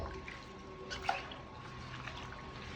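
Mustard greens for saag are swished and rinsed in water to clear the soil, making faint, soft sloshing with a few small drips, quiet and close.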